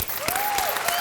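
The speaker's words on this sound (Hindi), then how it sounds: "तालियां" A TV show studio audience applauding, a brief burst of dense clapping with a tonal music note running through it.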